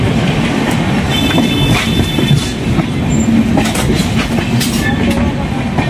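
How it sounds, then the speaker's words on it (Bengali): The Brahmaputra Mail rolls into platform 1 at Bhagalpur Junction, heard from on board: a loud, steady rumble of wheels with faint clicks and brief squeals, no voices. "1 নম্বর প্ল্যাটফর্মে ঢুকছে আমাদের ট্রেন ভাগলপুর জংশনের।"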